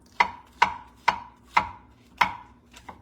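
Five crisp knife strokes through food onto a cutting board, evenly spaced about half a second apart, close and clear, followed by a lighter sixth tap, with no talking.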